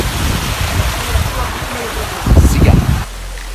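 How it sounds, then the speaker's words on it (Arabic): Rushing water pours in a broad steady roar at the middle of an apple-farm waterfall during a canyoning descent, close and loud, with a heavier splashing burst near the end. "هلا وصلنا على وسط الشلال"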